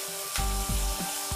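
Butter sizzling in a kadai while making Lajij Chicken, a short close crackle with a few sharp bursts and a low hum in the background.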